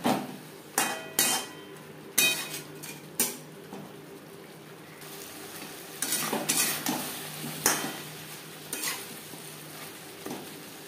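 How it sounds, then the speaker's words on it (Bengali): Potatoes and cauliflower stirred in a pot over a gas flame, a spoon scraping and knocking against the metal in repeated irregular strokes, with a soft sizzle underneath; close and fairly loud, no talking. "দু 3 মিনিট নাড়াচাড়া করে নেওয়ার পর গ্যাসের ফ্লেমটাকে লোতে করে দেব।"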